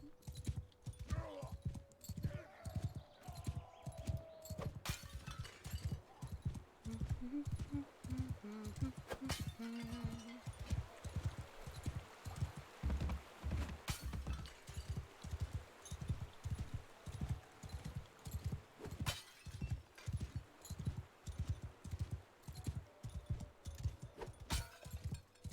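Horse hooves clip-clop in a steady galloping rhythm through Mount and Blade II Bannerlord, continuous and fairly quiet, with occasional game sounds layered over the hoofbeats.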